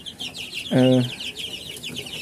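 Chickens on a farm, with a single loud, drawn-out cluck rising out of a background of softer chirping birds and low murmur.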